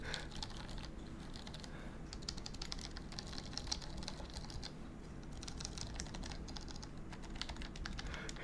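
Steady, fast typing on a Matrix 8XV 3.0 mechanical keyboard fitted with Holy Panda switches, dense overlapping keystrokes running throughout with no pauses and no voices.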